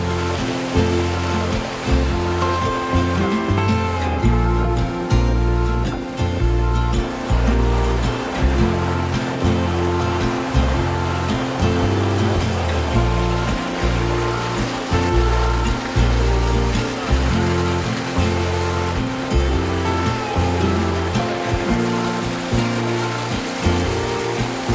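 Steady, dense rush of river water flowing past Preston Mill on the main river of East Lothian, loud and close, with a churning low rumble pulsing throughout and no voices.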